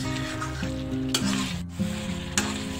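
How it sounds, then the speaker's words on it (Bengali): Mutton pieces sauté for curry in a pan over high flame, sizzling and hissing steadily while being stirred, with a few sharper scraping strokes breaking through the continuous frying sound. "15 মিনিট সময় ধরে ভালো করে কষিয়ে নেব।"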